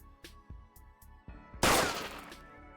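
Video game gunfire: a string of sharp, rhythmic shots ends in one loud crash that fades out, heard alone with no talking.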